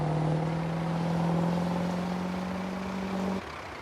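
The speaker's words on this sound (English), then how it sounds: "good thing I got good brakes on this truck" A truck in the Farming Simulator 22 video game, its engine droning steadily with a strong low tone while driving, then the pitch cuts off abruptly as it brakes near the end.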